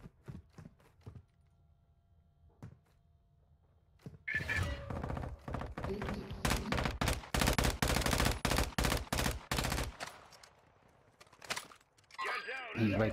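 Gunfire in a first-person shooter video game: a few scattered distant shots, then a long loud stretch of rapid automatic bursts and single cracks, with people talking over the action.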